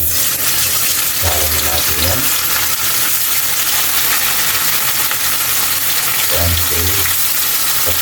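Pork pieces fry in oil in a wok until golden brown, giving a steady sizzling hiss with a few louder bursts of crackle or stirring, and no talking.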